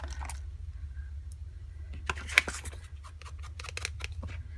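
Scissors trimming a paper flip for a signature, a cluster of quick crisp snips and clicks close by over a low steady background hum, with a faint earlier cut near the start.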